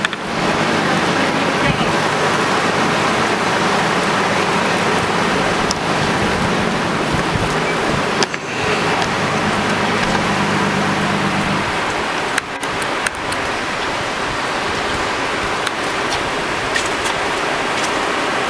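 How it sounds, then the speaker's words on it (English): Rain sweeps down during a November storm in Northern Kentucky, a steady loud broadband hiss and patter filling the whole stretch without a break, with brief voices talking over it. "Here comes the rain."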